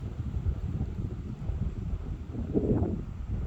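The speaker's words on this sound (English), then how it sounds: "know y'all hear the wind. This is what it sounds like on the beach." Strong wind buffeting a microphone on a beach in bad weather, a steady low roar with gusts swelling louder toward the end, no voices.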